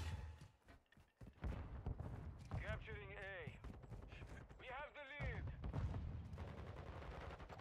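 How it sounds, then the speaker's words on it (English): Gunfire in Modern Warfare 2 ranked play crackles in bursts and rattling volleys, fairly quiet under a player's steady talk, with a couple of short electronic warbling tones breaking in midway. "Bro, they're shooting me, brother."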